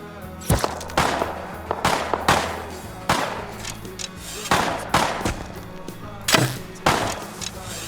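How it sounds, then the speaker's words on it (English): Gunfire from players shooting at each other in Rust's junkyard: a rapid, irregular string of sharp, loud shots with brief echoing tails, some in quick doubles, over faint background ambience. "All running around shooting at each other."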